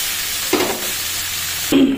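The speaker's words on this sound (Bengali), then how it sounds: "আলু সিদ্ধ, পেঁয়াজ, কাঁচা লঙ্কা দিয়ে ভাজা করে নিলাম।" Boiled potato, onion and green chili frying in a pan, with a steady hiss broken by two louder bursts of sizzling as the mixture is stirred.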